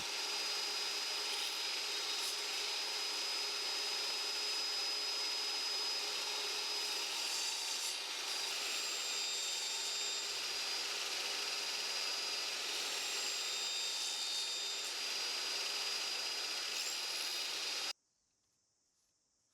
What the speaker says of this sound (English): Now I'm cutting the tenons into all of the rails.